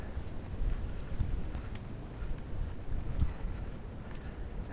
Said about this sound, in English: I don't think we can outrun this rain